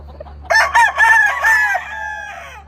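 A black John Anthony Marks Mugs rooster crowing once up close, a loud, clear cock-a-doodle-doo rising and stretching out over about two seconds against a quiet background.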